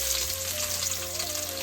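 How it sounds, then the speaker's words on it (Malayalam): Ginger and garlic sizzle in hot oil in a Kerala kitchen, a close, even hiss of frying that holds steady throughout with no voices over it. "അടുത്ത നമുക്ക് ഇഞ്ചിയും വെളുത്തുള്ളിയും ഇടുവാണ് കേട്ടോ."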